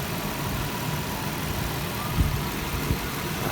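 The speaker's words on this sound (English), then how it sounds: "Yeah, this old van runs good." A 2008 Nissan Quest SE van idles steadily at close range, a low, even engine hum with two brief soft knocks near the end and no talking.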